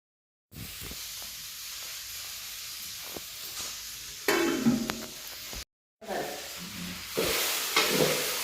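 Okra palya cooks in a pan with a low steady sizzle and hiss, a few stirring clatters, and bursts of louder frying after a brief cut.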